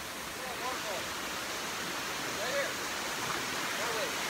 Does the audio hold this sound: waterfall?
yes